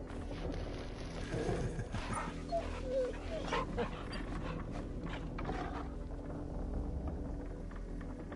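A dog in the video game Final Fantasy XVI gives soft whimpers and small yips over a steady low game ambience, fairly quiet and close.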